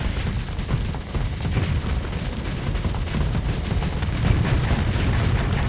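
Missiles launch and explode in a space combat video game, producing dense, continuous rumbling blasts and booms that stay loud for several seconds.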